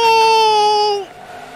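A race car engine in NASCAR '15 holds a loud, sustained high-pitched whine that drops off sharply about a second in and fades to a faint hum, with no talk over it.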